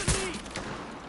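A sidearm fires in the shooter game Tom Clancy's The Division: one loud, close shot at the start, followed by a rattling, echoing tail that fades over the next second.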